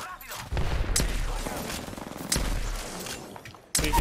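Gunfire in a shooter video game, several sharp loud shots in quick succession with decaying echoes and short gaps between them.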